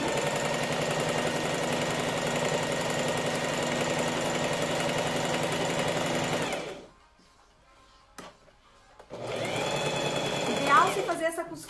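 Home sewing machine running a steady, loud stitching drone on a blouse neckline, stopping abruptly for a couple of seconds of near silence with small handling clicks, then starting again.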